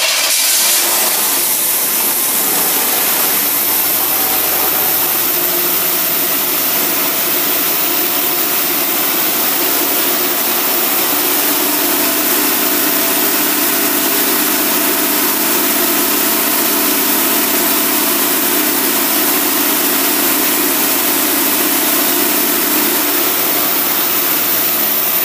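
A Cadillac engine running after carburetor work, a loud, steady, broadband roar close to the microphone that holds its level for the whole stretch and shifts slightly in tone partway through.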